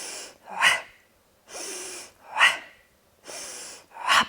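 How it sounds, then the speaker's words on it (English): Deep, audible breaths drawn slowly into the belly during a floor exercise workout with a ball and band, a steady rhythm of about four inhale and exhale cycles, close and clear with no talking. "Gently breathing into the abdominals,"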